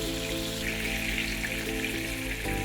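Stuffed mushrooms fry in a pan with a steady, close crackling sizzle, beneath a constant background hum, with no talking.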